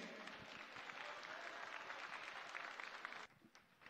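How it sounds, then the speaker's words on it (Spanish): A crowd at a public celebration in Vinto, Oruro, Bolivia gives loud, sustained applause to welcome a speaker, the clapping steady before cutting off sharply near the end. "Lo recibimos con un fuerte aplauso"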